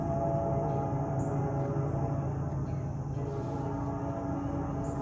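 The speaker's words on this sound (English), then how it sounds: "The train." A train rumbles past a backyard garden bed, a steady, loud, continuous roar with no pauses, heard alone without talk.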